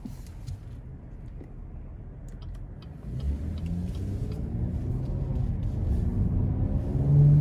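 A 2020 Cadillac CT6 Premium Luxury with the 3.6 AWD engine drives smoothly, its low engine and road rumble rising steadily as it gathers speed, with soft ticks from the cabin.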